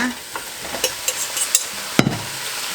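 Beef for a stew stir-fried in a pot, a brief burst of loud sizzling with quick scraping and knocking of a utensil against the pot, close and without talk.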